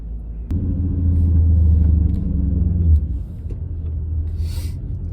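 A Mercedes C55 AMG with a 6-speed idles while warming up, a steady low engine rumble that swells slightly then settles, close by and alone with no talk.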